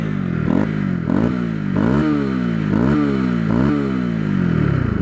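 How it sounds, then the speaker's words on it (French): A Honda CB125R motorcycle's single-cylinder engine runs close by, revving up and dropping back in repeated rising sweeps with a steady mechanical clatter underneath. "Je vous la démarre et puis vous allez pouvoir écouter le bruit un peu de cette moto."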